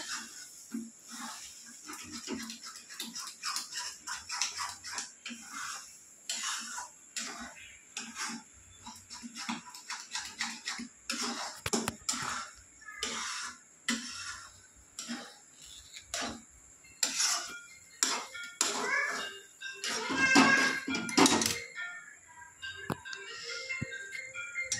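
A kadhai being shifted and rattled on the stove while egg bhurji cooks: irregular metallic clinks and taps, fairly close, in a quiet kitchen.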